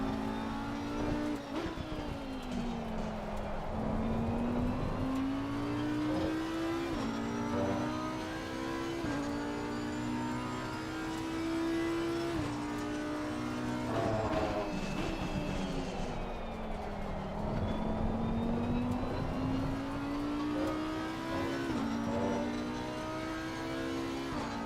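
Porsche race car engine in the racing game Assetto Corsa Competizione, a loud continuous drone rising and falling through repeated upshifts and downshifts, with other cars passing nearby.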